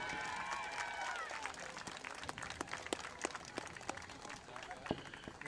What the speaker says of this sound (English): If you could please, a nice round of applause, Miss Heidi Lawrence.